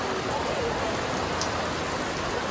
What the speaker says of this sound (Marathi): काय पाऊस पडतोय